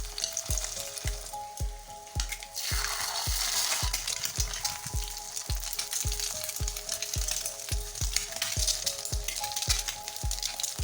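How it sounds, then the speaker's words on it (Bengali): Eggs fry in mustard oil in a frying pan, producing a loud, close, continuous sizzle with a regular train of soft tapping pulses underneath. "ডিমগুলো দুই পাশে ভালো করে ভেজে নিব।"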